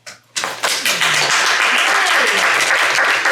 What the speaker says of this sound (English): it's June and we're still clapping